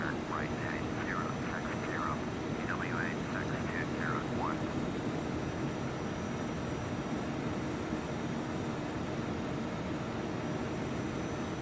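Phenom 100 jet in the FSX flight simulator, a steady broadband engine roar that runs continuously, with brief chirping cockpit tones near the start.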